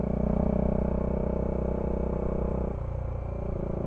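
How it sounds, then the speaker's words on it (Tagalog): A Bajaj Dominar 400 motorcycle engine idles with a steady, close low rumble, then the tone shifts slightly near the end as it continues running, with no voices present. "Motor ko lang sumisira sa ambience dito."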